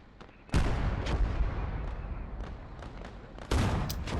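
Two heavy booms of 17-pounder artillery firing in the WWII strategy game Call to Arms - Gates of Hell, a few seconds apart, each followed by a rumbling battlefield tail.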